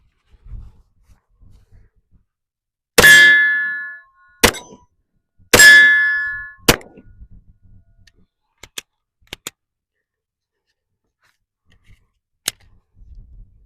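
A Glock pistol in a Flux chassis fired at steel targets outdoors: two loud, close shots, each followed by a ringing clang, then fainter scattered pings and ticks against near silence.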